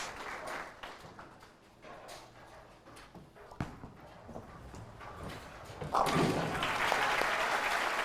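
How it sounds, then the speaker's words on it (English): A bowling crowd claps for bowler Clara Guerrero, a burst of applause that swells near the end after quieter thuds and ambient noise. "how about a big round of applause for Clara"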